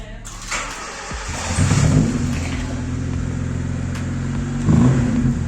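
A Honda Civic EJ9 engine idles close by, then revs up and holds a steady drone, with a second, stronger rev near the end.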